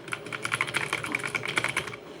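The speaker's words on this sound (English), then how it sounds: "how does the keyboard sound?" Steady run of crisp keystrokes on a mechanical computer keyboard, fast and continuous with even rhythm, close and fairly quiet, no voices.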